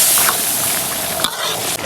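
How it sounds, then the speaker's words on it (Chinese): Spicy shrimp tails are stirred in a pan with beer, salt, chicken bouillon, soy sauce and pepper, making a brief scraping stir over a steady sizzle. "搅拌一下"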